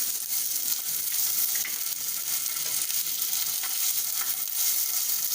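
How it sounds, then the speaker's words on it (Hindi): Ginger-garlic paste frying in oil in a pan for hara bhara paratha, a continuous even sizzle with faint stirring clicks, close and steady with no talking. "इसको भी 30 सेकेंड्स 20-30 सेकेंड्स आप फ्राई कर लीजिए"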